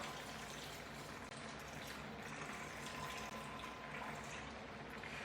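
Murky, starchy water rinsed from rice drains through a strainer in a continuous steady rush of pouring and splashing, close and even throughout.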